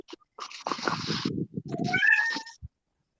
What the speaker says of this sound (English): No, that's my cat.